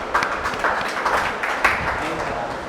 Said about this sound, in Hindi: अभिनंदन उनका, जोरदार तालियां